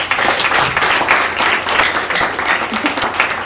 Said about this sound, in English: I'm gonna give one round of applause for them, please.